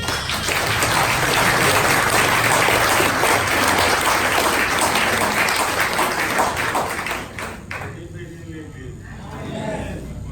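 A congregation at a Haitian Christian church claps loudly and continuously for several seconds. The applause then drops away abruptly, and voices carry on after it.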